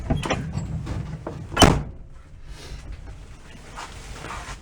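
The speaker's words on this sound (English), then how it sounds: "But door's shutting good on the driver's side." Driver's side door of a 1965 VW Beetle shut with one sharp, close metallic clunk after some earlier rustling and handling noises, then quiet shop ambience.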